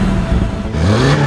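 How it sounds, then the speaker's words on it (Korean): A 2021 Kia Stinger with a variable exhaust muffler revs hard, its deep engine note rising and pulsing loudly and close for a brief burst with no talk. "가변 배기 머플러 사운드죠."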